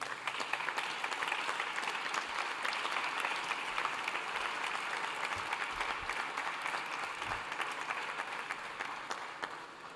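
Sustained audience applause at a national conference's closing session, a dense steady wash of many hands clapping for the full stretch without a break, loud and even, with no voices over it.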